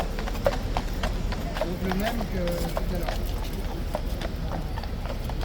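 Faint clip-clopping of Blues and Royals King's Guard cavalry horses' hooves in steady rhythm, distant and mixed into a noisy outdoor background.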